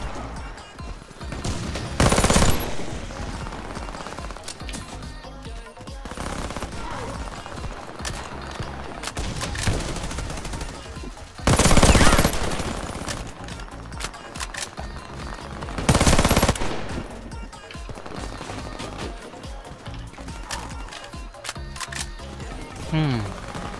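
Uzi Pro submachine gun firing in a first-person shooter, short rapid bursts separated by pauses, with a few louder blasts standing out, under a busy game mix and voices talking throughout.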